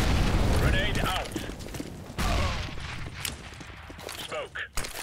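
Grenade explosions in a CS:GO matchmaking game on the Cobblestone map: two heavy, close booms with bursts of gunfire-like crackle, and voices talking over them.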